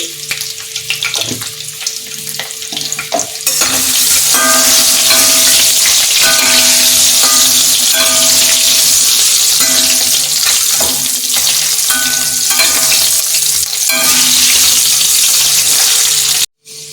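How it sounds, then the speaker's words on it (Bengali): Potatoes with turmeric fry in hot oil for a Bengali chicken kosha, a loud close sizzle that swells after a few seconds, with repeated spatula scrapes and clinks as they are stirred, then stops abruptly. "আলুগুলো সব ভাজা হয়ে গেছে"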